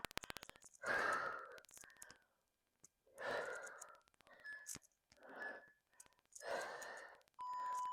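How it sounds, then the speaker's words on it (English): Audible breaths in and out during a yoga exercise, with several long soft inhales and sighing exhales spaced a second or two apart, close and quiet, with faint clicks between them. "Inhale as you reach up. Exhale as you curl down."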